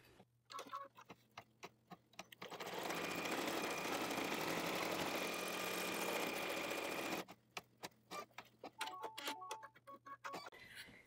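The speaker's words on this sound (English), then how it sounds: "So we'll take it back to the machine and I'll put it in and sew color number 2." An embroidery machine stitches a fleece mini stocking, with a fast steady mechanical stitching hum for about five seconds between bursts of quieter ticking and clicking, and no talk.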